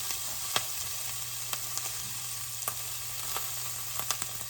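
Onions frying in olive oil in a pan, a steady soft hiss with occasional faint clicks and pops, fairly quiet and close, no voices.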